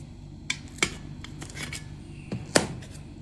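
A knife cuts onion on a board in a home kitchen, giving a few sharp, separate chops and scrapes close by with quiet gaps between them, and no talking.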